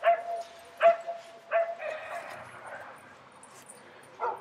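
Several dogs bark in short separate bursts at a moderate distance, with single barks and yips spread over a few seconds against a quiet background.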